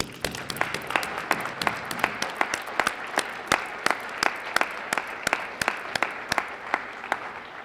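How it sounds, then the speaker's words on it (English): A crowd claps steadily and loudly. Individual hand claps are distinct within a sustained, even applause that carries on throughout. "please join me in a rousing round of applause to celebrate all RPS teachers"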